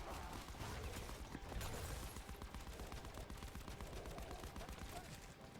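Rapid, sustained automatic gunfire in Black Ops 4's Dead of the Night zombies mode, aimed at a werewolf, rattles on in dense repeated bursts, fairly quiet in the mix.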